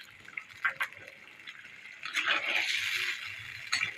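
Water poured from a bowl into a cooking pot with whole garam masala, a soft splash and trickle that grows steadier midway, with faint clinks of the bowl against the pot, close and moderately quiet.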